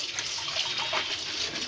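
Running water pours steadily over red amaranth greens as they are washed in a home kitchen, a constant close splashing hiss with no pauses and no talking.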